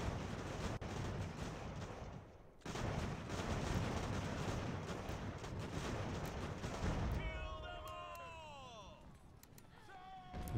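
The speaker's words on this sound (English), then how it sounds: "I see some artillery coming in." Artillery fire and musket gunfire in the Ultimate General: American Revolution battle game, a continuous rumbling barrage with sharp reports, a brief lull, then more firing before whistling, warbling tones take over near the end.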